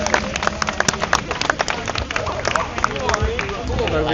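Rally crowd outside Downing Street applauding a writer and political commentator, a dense spatter of clapping mixed with crowd babble and some talk, steady and fairly loud throughout.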